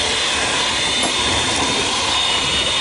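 Dough mixer machine in a culinary school kitchen running at medium speed, a loud continuous whirring drone with steady broadband noise and no talk over it.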